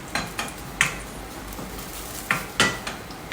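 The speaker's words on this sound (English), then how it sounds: "So giving it a nice saute." Cauliflower fried rice sautés in a pan, with a soft steady sizzle under repeated clinks and scrapes of a utensil against the pan.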